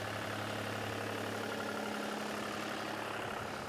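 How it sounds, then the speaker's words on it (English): A tractor tows a heavy metal plate over a greyhound racing track, its engine giving a continuous, steady rumbling drone with a dense rattling texture, close and constant throughout. "The tractor tows a heavy metal plate behind it, which compresses the surface ready for watering."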